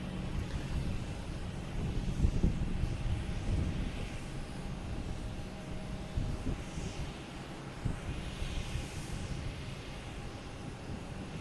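An Etihad airliner at Boston Logan Airport makes a steady, broad rumble that holds at a constant level throughout the clip, with no voices over it.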